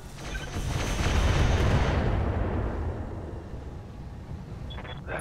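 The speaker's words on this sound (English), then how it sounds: "Just lob the missiles over him." Indirect missile salvo lobbed at a mech in the BattleTech mod Roguetech, a loud rumbling roar of launches and impacts that swells early, then tapers into a lingering low rumble.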